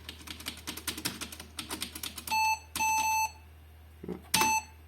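Computer keyboard typing in quick irregular bursts, then a series of clear electronic beeps as the space bar is pressed during a PC build, close and alone with no talk.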